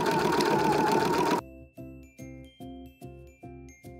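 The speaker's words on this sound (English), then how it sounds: "Now that we have our line mark, let's go ahead and sew right down it." Sewing machine stitching down a marked pocket line on an apron, first in a fast continuous run, then slowing to a series of separate short bursts of a few stitches each, close and clear.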